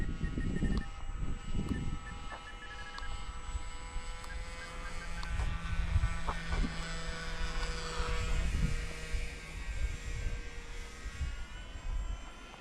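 A small engine drones steadily through the winter air as a Skipper model airplane flies, rising and falling as it passes, with occasional clicks and light wind.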